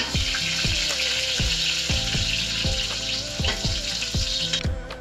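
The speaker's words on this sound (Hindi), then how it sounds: "लगता है तेल भी गर्म हो गया है। थोड़ा सा प्याज डाल देता हूँ काट के।" Chopped onion hits hot oil in a pan, a loud, close sizzle carrying a series of regular sharp knocks or taps, about two per second, through the whole stretch, with no talking.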